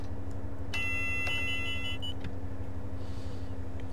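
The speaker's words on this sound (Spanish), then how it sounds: "avisos de alarma" A Class 57 locomotive cab in Train Simulator 2014 sounds a bright electronic alarm beep, one sustained tone lasting over a second followed by a shorter blip, above a steady low engine hum.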